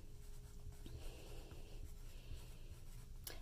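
A pen writes the name "Mrs. Jackson" in short, quiet scratching strokes, close and soft, with no talk.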